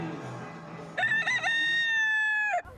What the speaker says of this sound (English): The ever-present roosters of Key West made sure I made the most of my last few hours here.